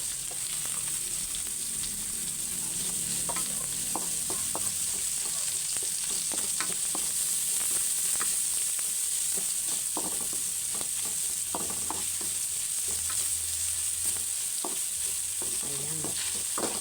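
Onions stir-frying in a little oil for Filipino laing, a continuous close sizzle broken by repeated scraping and clacking of a utensil against the pan, no talking.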